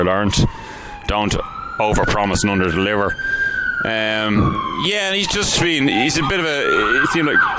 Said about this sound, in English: Sorry, there's sirens coming now